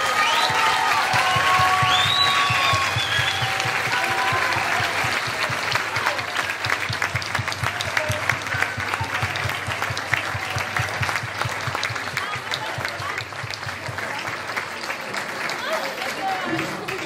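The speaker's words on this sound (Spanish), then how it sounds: "Un aplauso para ella." Loud, sustained applause from an audience at an audiovisual festival, dense rapid clapping that carries on steadily and eases slightly toward the end, with a voice over it at the start.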